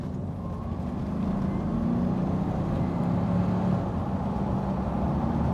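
Bentley Continental T, a 1990s British grand tourer, pulling hard under acceleration with a deep, steady, continuous engine rumble heard from inside the car, loud and unbroken throughout.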